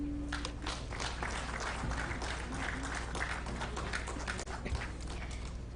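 Applause for dignitaries seated on the dais at a railway engineering ceremony: a sustained crowd of many hands clapping evenly from start to finish, moderately loud and without talk.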